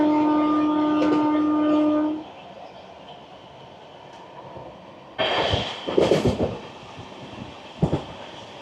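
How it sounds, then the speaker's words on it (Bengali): A train runs across a new rail bridge over a feeder canal, opening with a sustained horn blast, then a low rolling rumble broken by loud metallic clatter and rattling bursts from the wagons. "আর আমরা যাচ্ছি নতুন রেল ব্রিজের উপর দিয়ে।"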